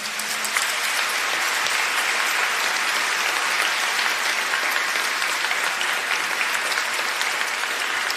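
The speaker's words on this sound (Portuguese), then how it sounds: "a quem eu peço vocês uma salva de palmas." A congregation at a solemn Catholic mass for the feast of São Sebastião breaks into sustained, even applause that fills the church, with no voices heard over it.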